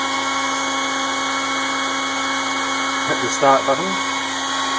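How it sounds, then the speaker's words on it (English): The spindle of a ShapeOko CNC router whines steadily with a constant high tonal hum, close and loud, while someone speaks briefly near the end. "I'm going to etch a little Android there and turn on the spindle."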